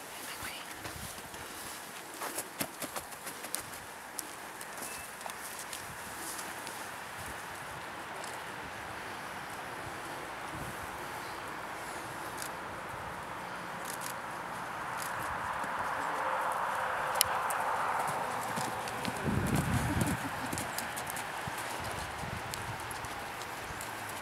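A horse's hooves clip-clop in a trot on the ground outdoors, faint and somewhat distant under steady wind and rustling, with a brief louder gust or movement near the end.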